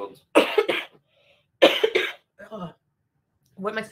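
Three rounds of dry coughing from a woman who feels feverish and fatigued, each a tight burst of harsh hacks, close and fairly loud, separated by brief silences.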